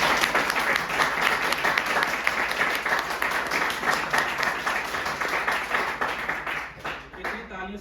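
A large audience at an anniversary event applauds loudly and continuously, with dense clapping close by that fades toward the end.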